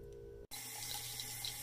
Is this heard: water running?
yes